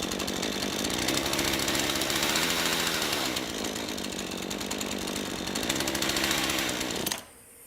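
Soviet Druzhba chainsaw running on nitrous, roaring loud and rough at close range with a rattling, buzzing engine note that surges and dips twice before cutting out abruptly at the end.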